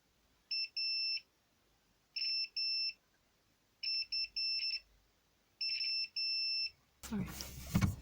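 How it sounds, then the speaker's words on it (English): Multimeter on continuity setting checking contacts on a Honda Civic dashboard LCD circuit board, giving four short bursts of high steady beeps, some doubled, separated by silence, followed by a burst of noise at the end. "You can use a multimeter set to continuity if you want to check the contacts."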